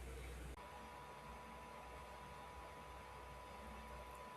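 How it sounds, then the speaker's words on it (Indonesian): A cooling fan runs beside a laptop with a steady, faint whooshing hum. It cuts in with a slight change early on and then continues unbroken, with no voices over it. "ini saya pakai kipas untuk laptop supaya laptopnya tidak overheat"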